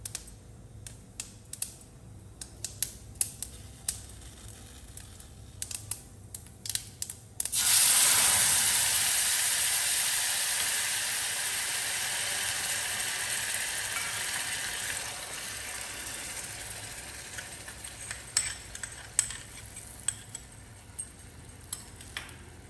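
Mustard seeds crackle and sizzle in hot oil for a mooli aloo sabji, a loud, dense burst of popping that starts abruptly after a quiet stretch and slowly fades, with scattered clicks around it.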